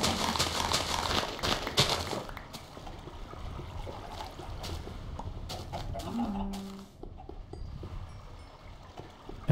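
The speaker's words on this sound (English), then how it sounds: "because I don't like listening to that bubbling" Liquid bubbling steadily in a Minecraft game using the Thaumcraft mod, a continuous watery gurgle that is fairly loud at first and then eases off slightly.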